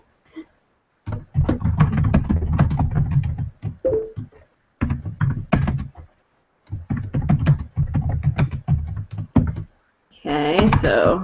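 Steady computer keyboard typing in irregular bursts, close and clear, with short pauses between runs and a brief other sound near the end.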